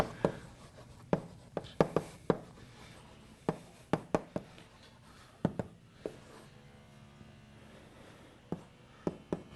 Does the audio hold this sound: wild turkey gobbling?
no